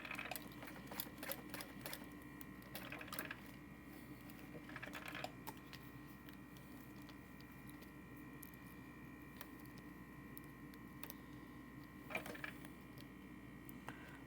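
A sewing machine makes a quick basting pass over a D-ring connector on a tote bag, a close, soft, steady stitching whir with light clicks and brief bursts of handling noise.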